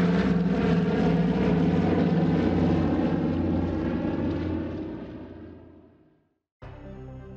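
A propeller airplane drones loudly and steadily, with a rich engine hum that slowly fades away. It stops abruptly, then a different sound starts after a short silence.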